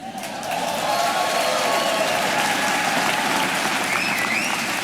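A room full of audience members at a talk claps together, forming a dense, loud, steady wall of applause that starts quickly and holds for several seconds.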